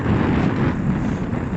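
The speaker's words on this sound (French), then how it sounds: "J'espère que vous allez m'entendre parce qu'il y a un petit peu de vent." Wind buffets a microphone outdoors on a warm afternoon bike ride, a loud, steady, low rumbling roar filling the whole moment with no talk.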